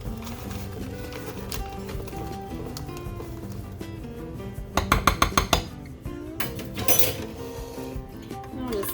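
Spoon clinking and scraping in a bowl while ketchup is stirred into water, with a burst of quick rhythmic clinks midway against a steady background of music.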